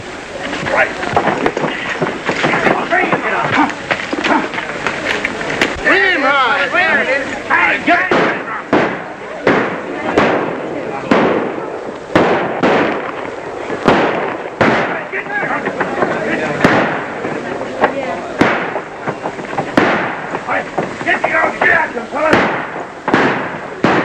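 Rapid gunfire crackles through a Hopalong Cassidy western shootout, with repeated sharp shots in irregular bursts over a rough background for the whole stretch.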